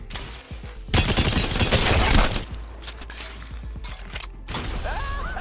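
R-301 assault rifle firing in Apex Legends, a loud sustained burst of rapid automatic shots followed by shorter bursts and mechanical clatter, close and prominent.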